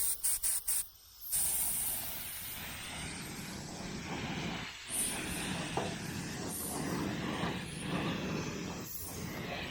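A paint spray gun hisses steadily and loudly while spraying paint on a 1967 Camaro build, with sharp short bursts at the start followed by continuous spraying that swells and dips.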